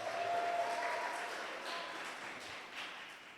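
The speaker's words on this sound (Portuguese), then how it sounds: "aplauda Jesus bem alto e dê um brado de júbilo" A church congregation applauds during a sermon, a soft, distant wash of clapping that slowly fades.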